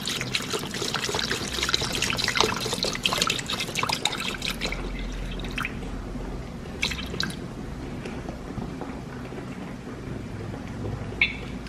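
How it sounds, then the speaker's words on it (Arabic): Milk, about 500 millilitres, is poured for a cake batter, making a loud splashing, trickling stream that thins out midway into quieter, sporadic drips. "غادي نديرو 500 غرام ديال الحليب ولا 500 مليلتر ديال الحليب"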